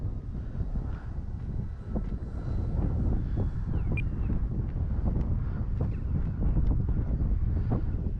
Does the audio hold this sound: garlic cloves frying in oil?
no